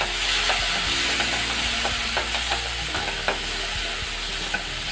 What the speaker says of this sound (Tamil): இதையே நல்லா மிக்ஸ் பண்ணிவிடுங்க